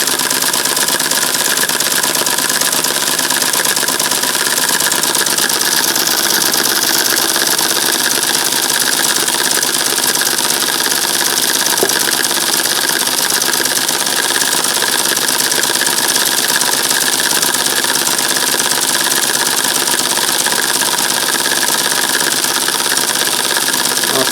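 A small home sand-cast steam engine drives a generator through adjustable pulleys, giving a steady, loud mechanical running drone with a dense rattling hum that holds unchanged throughout, with no voices.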